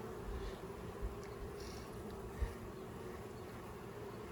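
Honeybees hum in a steady, dense drone while a swarm hive with two deep boxes is opened for inspection. The buzzing is continuous and moderately loud, with a couple of brief knocks and no talking.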